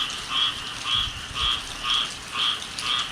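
A frog croaks on a rainy day in a rhythmic series of about six evenly spaced rasping calls, clear and moderately close against quiet background noise.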